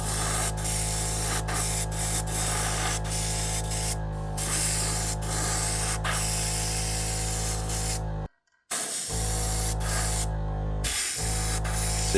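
An airbrush sprays continuously with a steady close hiss, driven by a Gaahleri Turbo X compressor humming underneath at about half dial, with a brief cut-off near the end and small clicks.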